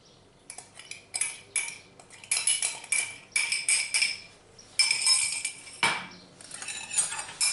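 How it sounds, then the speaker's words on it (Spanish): A spoon stirs vinaigrette in a small bowl or glass, dissolving salt, producing repeated quick metallic clinks and scraping bursts close by, with short pauses between rounds and no talking. "se mezcla hasta que se disuelva la sal"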